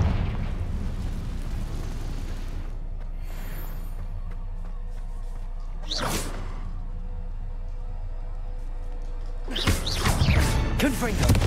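Confringo fire spell from the Hogwarts Legacy video game: two sharp blasts, a brief burst near the middle and a louder, longer crackling explosion at the end, separated by a low game ambience.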